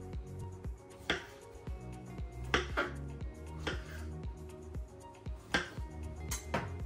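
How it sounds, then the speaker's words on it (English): Knife chopping the ends off fresh strawberries and halving them on a cutting board, a series of sharp knife taps and clicks in an irregular rhythm, close and clear, with light clinks of kitchen utensils and no talking. "We're just gonna chop the ends off like this"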